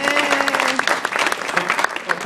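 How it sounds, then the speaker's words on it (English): An audience applauds at a glass demonstration in the Corning Museum of Glass, with close, lively clapping from a small crowd over a faint voice at the start. "How about a round of applause for our amazing assistant?"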